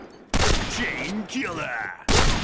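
Two sharp, loud M200 sniper rifle shots from the Point Blank video game, about two seconds apart. A voice can be heard faintly in the gap between them.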